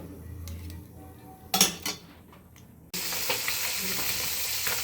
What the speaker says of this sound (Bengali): এই যে মাছগুলো ভেজে নিতেছি